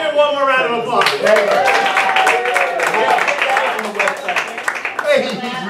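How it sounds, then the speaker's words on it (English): Applause from an audience at a local Star Wars-themed gig in Lake Mary, a dense clatter of many hands clapping loudly, close and sustained with cheering voices mixed in, tapering briefly near the end before swelling again. "Let's give him one more round of applause"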